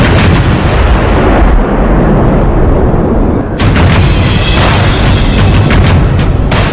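Bofors artillery guns firing, heavy booming blasts that fill the scene with dense, loud rumbling and a fresh sharp report midway, with no voices over them.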